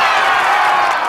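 Crowd cheering at a baseball game, a loud, dense wash of voices and whoops sustained briefly without a break.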